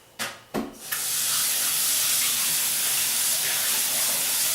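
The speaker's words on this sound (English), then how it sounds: "You hear me rinsing that over there." Tap water runs hard and steady into a kitchen sink while a cooked dish for slow cooker chili colorado is rinsed, opening with a couple of short splashes before settling into a loud, continuous broadband rush.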